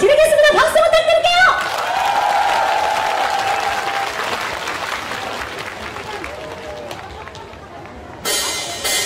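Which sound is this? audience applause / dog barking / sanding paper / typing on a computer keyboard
audience applause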